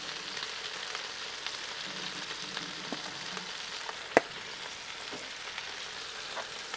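Onions sauteing on a Blackstone griddle give off a steady, moderate sizzle, with one sharp clack partway through and no talking.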